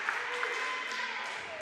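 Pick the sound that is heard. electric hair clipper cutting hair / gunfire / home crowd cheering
home crowd cheering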